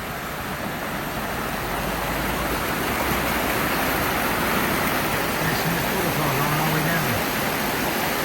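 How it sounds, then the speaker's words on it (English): Water pours over a small waterfall where a lake's outflow drops through a culvert, making a steady, loud, close rushing hiss throughout, with faint low background tones underneath. "over here it creates this nice waterfall"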